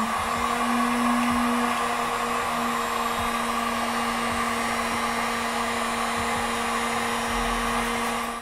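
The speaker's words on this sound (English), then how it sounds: "I'm going to go ahead and turn my heat gun on onto the high setting" Heat gun on its high setting blowing a steady, loud, close fan roar with a constant motor hum, unbroken for the whole stretch with no one talking.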